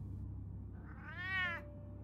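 A cat in the Batman Telltale video game gives a single clear meow that rises and falls over about half a second, heard over a low background hum.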